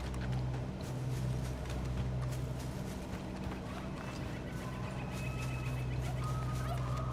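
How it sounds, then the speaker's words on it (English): Turkeys gobble and cluck in Microsoft Flight Simulator, faint fowl calls over a constant low outdoor drone, with a voice briefly heard. "They're turkeys, man."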